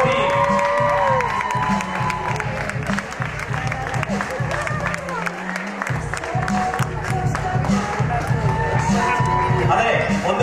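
Audience at a Kalamela arts festival applauding Saptha Raman Namboothiri: sustained dense clapping and crowd cheering throughout, with a voice speaking over it.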